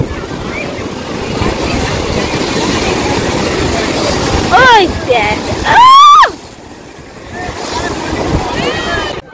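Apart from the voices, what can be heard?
sea waves crashing on the beach at Digha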